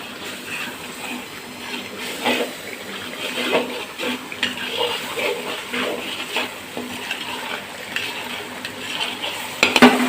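Ginger garlic paste and ground green chillies frying and being stirred in a pan for a creamy chicken dish, a soft sizzle with scraping spatula strokes and occasional clinks, no talk.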